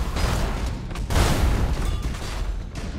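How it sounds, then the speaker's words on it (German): Starship weapons fire and explosions in the space strategy game Battlefleet Gothic: Armada 2, a rolling barrage of muffled booms and blasts that swells in the middle, then thins out. "Die Schüsse kommen in Slow Motion, ey."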